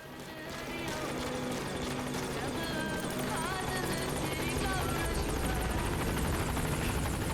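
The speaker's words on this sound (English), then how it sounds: "Oh my god, there's a salmon pink helicopter approaching." Salmon pink helicopter approaching in Metal Gear Solid V: The Phantom Pain, a steady loud rotor drone building in over the first second and holding, with game music and voices mixed underneath.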